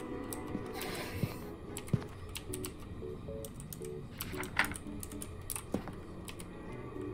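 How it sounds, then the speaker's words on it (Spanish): Rapid, continuous typing on a new clicky mechanical keyboard with Otome Blue switches, with sharp, close key clicks in an irregular rhythm and a few louder keystrokes. "Se escucha mucho el nuevo teclado."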